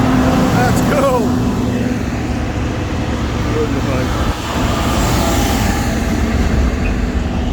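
Pilot vehicle escorting a harvest convoy rolls past close by, a steady loud roadway rumble and tire noise with a broad whoosh, heard alone with no talk over it.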